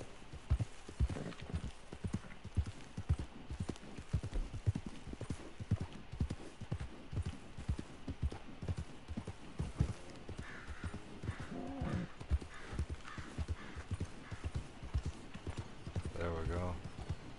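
Horse hooves clip-clop in a steady, rapid rhythm throughout a video game scene, close and continuous, with someone talking over parts of it and a short whinny-like sound near the end.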